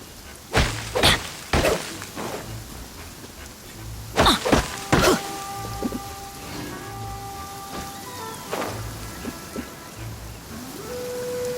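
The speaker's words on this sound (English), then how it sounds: "I'm used to the rain, but you should probably use an umbrella." Rain falls steadily in Genshin Impact as a constant hiss under sharp combat impacts and cracking bursts, with tonal game chimes rising near the end.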